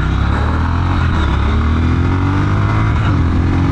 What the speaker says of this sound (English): outstanding acceleration. I mean, really good acceleration. I am loving the acceleration on this bike.